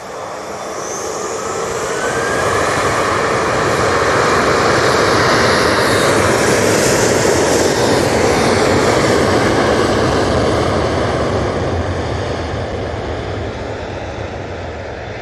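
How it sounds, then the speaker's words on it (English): An Emirates airliner comes in to land at Manchester Airport, its broad engine roar swelling from a distance to a loud, steady peak overhead and then slowly easing off, with no voices. "we're just going to concentrate on this Emirates coming on"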